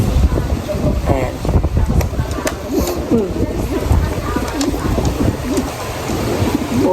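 Racing pigeons cooing in a loft, soft repeated coos close by, mixed with wind noise on the microphone and someone talking over them.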